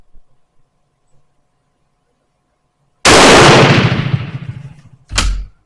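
A Turkish Mauser M38 rifle fires PPU ammunition, giving one loud, sharp close-range shot with a decaying echo, then a second brief loud report after a pause of about two seconds.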